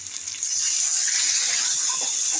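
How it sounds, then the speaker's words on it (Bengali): Water pours steadily into a pan of sautéed potatoes and young jackfruit, a soft gushing splash that begins after a brief pause and runs on evenly at close range, with no voices. "এই পর্যায়ে এসে আমি জল দিয়ে দেবো।"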